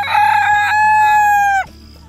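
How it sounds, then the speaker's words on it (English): A Silkie rooster crows once, loud and close, a drawn-out call that cuts off abruptly. "that's our Silky Rooster"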